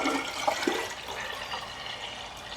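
Coconut water is poured into a half-gallon mason jar, a close, steady liquid splashing and gurgling that starts with a few brighter glugs and then settles into a continuous, gradually fading pour with no talking.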